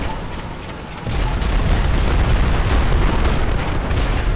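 A bomb explosion in GTA Online, a loud, sustained roaring blast that swells suddenly after a second of rumbling noise and keeps booming to the end.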